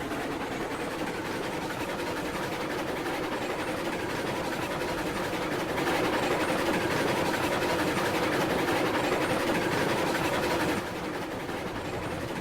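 A train in the railway game RailRoads Online runs with a steady mechanical rumble and rolling noise, continuous and fairly loud throughout, growing slightly louder midway before easing back.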